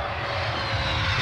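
A MiG-23 Flogger jet roars past during a landing on an autobahn stretch, a loud, steady engine drone without speech.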